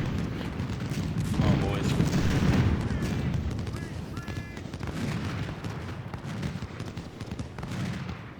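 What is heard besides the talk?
musket gunfire volleys in the video game Ultimate General: Civil War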